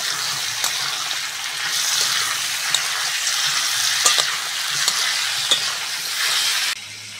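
Raw mango pieces fry in a pan for a sour fish curry, giving a steady close sizzle with occasional stirring clicks and scrapes throughout.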